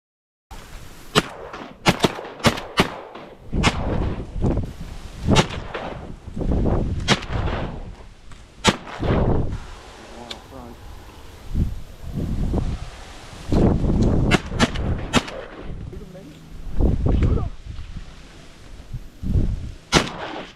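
Shotgun blasts during a bird hunt for ducks, geese and doves, a series of loud, sharp outdoor reports spaced irregularly, some in quick pairs, with wind rustle between shots.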